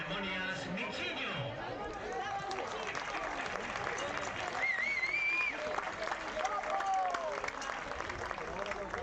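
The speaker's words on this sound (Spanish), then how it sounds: "Démosle tamén un aplauso a noso mestre de ceremonias" A crowded hall at a karate championship fills with sustained audience applause for the master of ceremonies, dense clapping mixed with chatter and occasional cheers, steady and fairly distant throughout.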